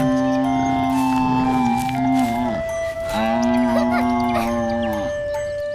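A cartoon buffalo on a village farm moos twice, two long, loud, tonal bellows with a short pause between them, heard clearly over a faint background.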